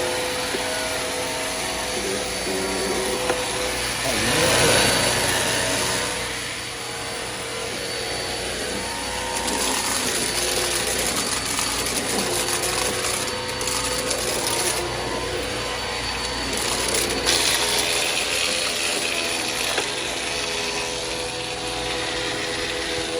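A used secondhand vacuum cleaner from a thrift store, with a weak brush roll belt, runs steadily up close, its motor droning and whining loudly with bursts of brush and suction noise as it is pushed across the floor.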